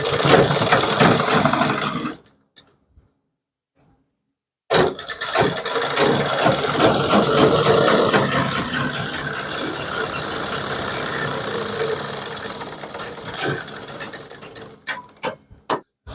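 A sewing machine stitches a kurti in long, fast, rattling runs, stopping for about two seconds before whirring on steadily again and ending in a few short bursts.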